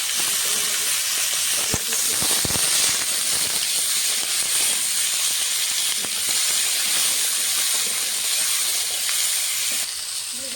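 Sliced potatoes frying in a pan for a rohu fish curry with beans, a steady loud sizzling hiss that runs throughout, broken by a few soft clatters.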